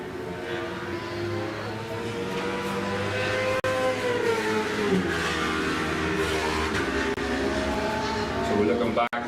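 Road racing motorcycles at the Mid-Antrim 150 in Ulster, including Supersport 300 class machines, scream past at speed with rising and falling engine pitch under continuous commentary.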